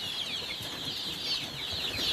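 Forty-day-old Leghorn chicks cheep and cluck continuously in a coop, a busy high chatter of many birds close by with occasional rustling and no talking.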